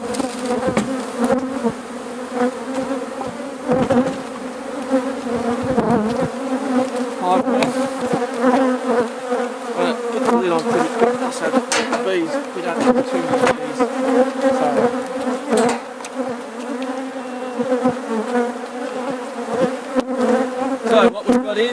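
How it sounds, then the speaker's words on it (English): A dense, steady buzz of many honey bees around an open hive close by, continuous and loud throughout with small bursts of sharper wingbeat noise. "just don't want these bees to escape too much"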